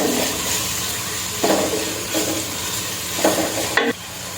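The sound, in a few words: sautéing in a pan with salt, for chicken biryani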